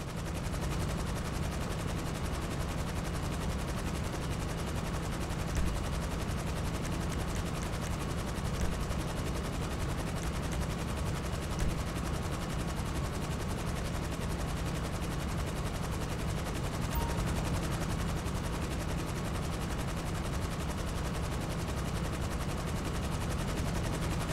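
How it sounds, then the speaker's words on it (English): Onboard gun turrets of the Avenger aircraft in GTA firing: continuous rapid machine-gun fire, steady and dense throughout, layered over a constant engine drone, with no talk. "enter the hold to gain access to the onboard gun turrets"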